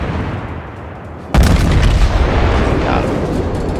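Heavy battleship gun salvo in the naval combat game World of Warships, a sudden loud boom that leaves a dense rumbling roar of continued fire and explosions for several seconds.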